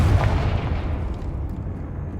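A Confringo blast in Hogwarts Legacy goes off as a single booming burst that fades into a rumbling tail, heard alone without talk.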